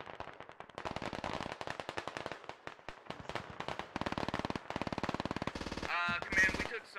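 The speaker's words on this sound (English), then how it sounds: "We're getting shots from behind as well." Rapid automatic gunfire in a tactical military shooter game, dense bursts of sharp shots running almost continuously at a moderate distance, with a brief voice-like sound near the end.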